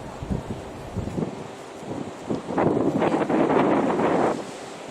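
Heavy wind buffets the microphone with deep rumbling gusts by the sea at St Andrews castle, Fife, Scotland, swelling into a louder roar of wind and surf in the second half.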